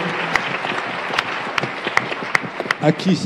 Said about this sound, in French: on l'applaudit pour la dynamiser